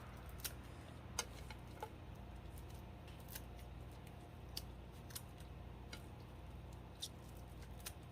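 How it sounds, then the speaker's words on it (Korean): Kitchen scissors snip spring cabbage greens for kimchi, a quick run of faint, sharp clicks scattered unevenly over a steady low hum, with no one speaking. "가위로 잘라가지고 이렇게"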